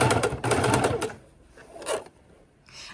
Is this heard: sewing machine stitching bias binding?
yes